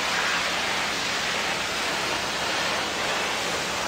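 Steady high-pressure water spray washing a weight implement in a farming game on Xbox One, a continuous loud hiss with no breaks and no voices.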